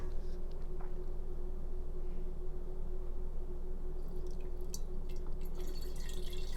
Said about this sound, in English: Now I'm going to try and pour this in here without spilling it